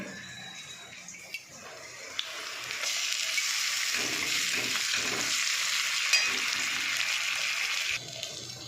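Black cumin, onion and spices fry in a hot pan with a steady, loud, close sizzle. The sizzle grows stronger partway through and crackles continuously without any speech.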